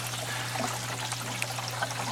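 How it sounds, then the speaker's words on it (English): Water trickles steadily over the trickle plate of an aquarium sump filter, a continuous soft splashing wash with a low steady hum beneath it, no voices. "it flows right over the trickle plate, and you can see how the water just gently flows right over there"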